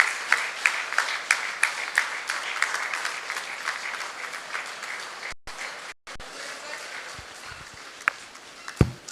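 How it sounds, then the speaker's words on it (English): An audience at a school alumni gathering applauds, with a dense patter of hand claps and a few sharper individual claps standing out. A brief cut interrupts it partway through. "Let's all give them a great clap."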